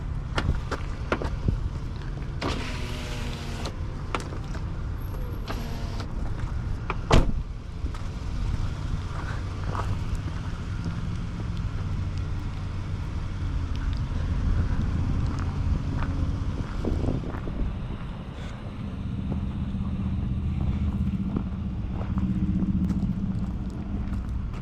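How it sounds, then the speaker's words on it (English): A 2006 Lexus GX470 SUV engine idles steadily, a low continuous rumble with some wind buffeting on the microphone and no talk. "I'm not shutting off the engine because the car was sitting outside for a while"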